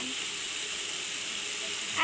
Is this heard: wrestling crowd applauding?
no